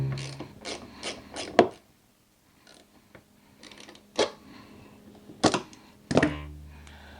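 Tightening a cable coupler nut on an Exact Slide G5.5 cable slide gives a series of close, sharp metallic ratcheting clicks in short bursts separated by quiet pauses.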